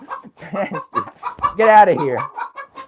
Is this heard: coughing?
no